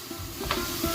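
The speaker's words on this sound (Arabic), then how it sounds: "وخليهم ياخذوا وقتهم في التشحار حتى تلقوا الماء الطبيعي ديالهم" Chopped onions sautéing in butter in a soup pot with salt and spices, a steady soft sizzle and hiss with faint stirring scrapes, close and continuous.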